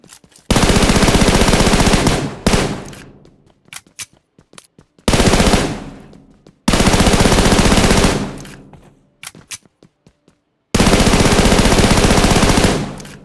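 Long bursts of rapid automatic gunfire in PUBG Mobile, loud and close, come in several sustained volleys separated by brief pauses with scattered single shots.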